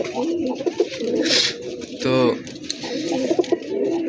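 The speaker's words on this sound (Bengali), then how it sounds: "দেখেন কবুতর ভাইব্রেশনে যাচ্ছে" Pigeons coo in low, throaty, repeated bursts close by, with a brief word spoken and a short hiss of noise partway through.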